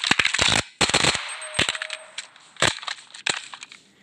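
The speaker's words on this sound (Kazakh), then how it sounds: "Және біздің ең соңғы қаруымыз осындай автомат." Automatic gun firing in a Minecraft weapons mod, with loud, close bursts of rapid shots separated by short gaps and a few single cracks, no talking.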